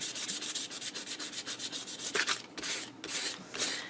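Sandpaper rubbing paper off a matchbook notepad in quick, rhythmic back-and-forth strokes, close and scratchy, then a few longer, slower passes.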